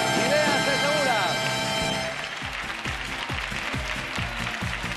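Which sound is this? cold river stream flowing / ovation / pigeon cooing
ovation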